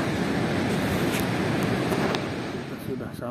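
Surf washes steadily at a quiet, secluded beach lined with coconut trees, a continuous close wash with wind noise on the microphone.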